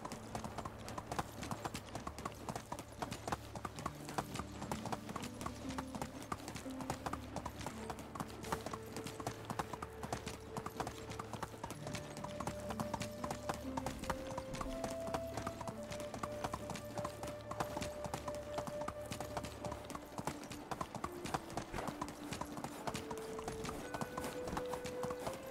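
Horse hooves galloping in the medieval video game Medieval Dynasty, a fast continuous clip-clop running the whole time under soft game music, with no pauses.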